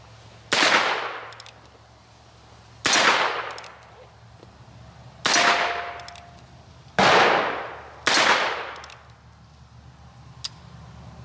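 Five loud Magnum gunshots crack at an outdoor shooting range, each a sharp blast with a ringing decay, spaced irregularly about two seconds apart, with a low steady hum underneath.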